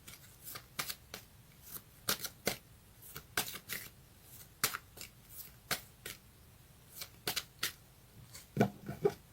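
Tarot cards shuffled by hand, a quiet series of sharp riffling flicks and taps in an irregular rhythm, close up with no talk.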